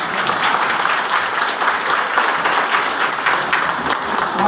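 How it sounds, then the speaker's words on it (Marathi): An indoor audience at a book discussion event bursts into loud, dense applause that holds steady for several seconds with no voices over it. "एक टाळी त्यांच्यासाठी देऊन टाकावी अशी मला."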